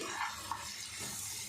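Spices tempered in oil and ghee being stirred in a pan, a brief soft sizzle with scraping swishes over a steady frying hiss.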